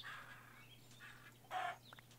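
A chicken in the modded Minecraft game clucks softly in a few short, faint bursts, with one slightly louder cluck near the end and no talking over it.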